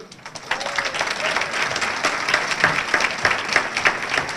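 An audience applauds at an annual chamber of commerce awards dinner, dense steady clapping that starts after a brief moment and continues throughout, fairly close and filling the room.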